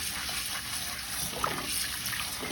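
Hot water runs steadily from a tap over raw sea moss being rinsed by hand, a soft continuous trickle and splash at moderate level with no talk.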